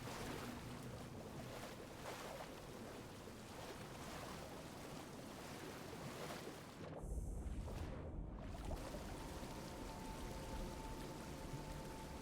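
A waterfall in the video game Tainted Grail gives a steady, broad rushing roar that fills the whole clip, with a brief dip in the middle before it resumes evenly.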